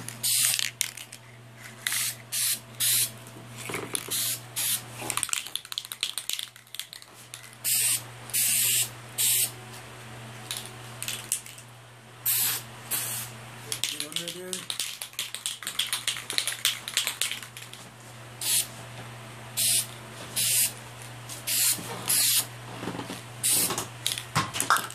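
Spray can bursts laying a wet third coat of paint on a Legacy morpher prop, a series of short hissing sprays separated by pauses, with faint clicks and handling noises between them and a low steady hum beneath.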